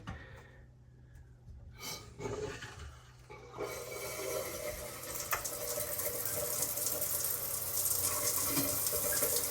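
Shower water starting up after the taps are forced open with pliers, a faint rushing spray that builds after a few seconds of quiet handling noises and keeps running steadily.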